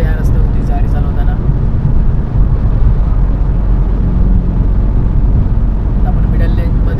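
Tata Nano car cruising on the Samruddhi Mahamarg expressway, a constant loud road and engine rumble heard from inside the cabin, steady throughout with no gaps.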